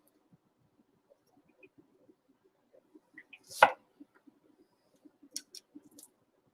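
A freshly sharpened kitchen knife cuts through onion on a board in a quiet room, making soft, irregular taps with one sharper, louder cut in the middle.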